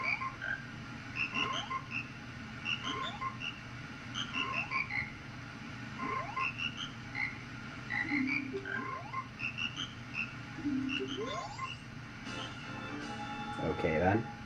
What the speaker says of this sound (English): these frogs are the Termina version of the frogs in the Zora River in Ocarina of Time